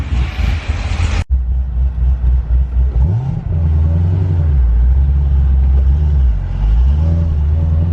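A modified 900+ wheel-horsepower Corvette ZR1 engine rumbles close by, revving up and shifting through gears with a deep throaty growl after a sharp click at the start.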